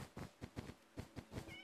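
A Minecraft cat meows repeatedly, a series of short, soft mews in quick irregular succession, close and faint with no voices over them.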